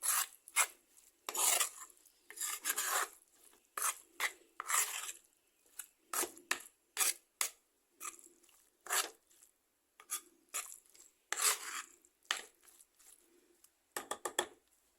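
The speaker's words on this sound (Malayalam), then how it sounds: "നന്നായിട്ടൊന്ന് മിക്സ് ചെയ്യാം" Thick spice paste with mashed Indian gooseberry (amla) stirred by hand in a pan, giving repeated rasping, scraping strokes in an irregular rhythm, close and moderately loud with short pauses between them.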